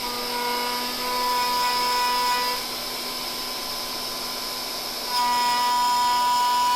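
A wood router takes a lighter second pass through wood at lower speed, a steady loud high-pitched whine running throughout, dipping slightly in the middle before rising again, with no talk.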